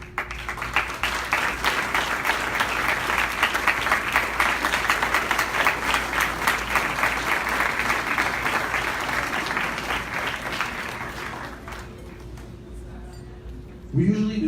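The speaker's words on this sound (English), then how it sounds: "I would like for all the educators in attendance today to stand for a round of applause." A large audience at a scholarship gala gives a dense, sustained round of applause for around twelve seconds, tapering off before a voice begins speaking.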